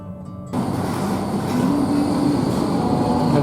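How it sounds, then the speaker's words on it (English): Tram arriving at Glenelg near the beach in Adelaide, South Australia, a loud steady rumble that starts abruptly and holds with a faint rising whine on top. "the tram comes"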